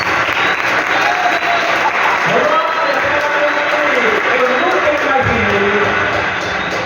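A church congregation claps in a steady, dense round of applause that fills the whole space from start to finish, with voices rising over the clapping.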